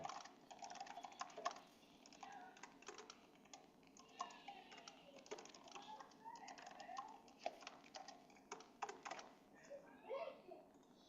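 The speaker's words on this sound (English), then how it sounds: "I was just typing something" Rapid clicking of a computer keyboard being typed on, close and fairly faint, with irregular bursts of keystrokes and brief pauses, no talk over it.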